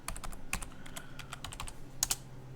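Rapid, irregular keystrokes on a computer keyboard, close and clear, a short burst of typing with a few louder key hits near the end.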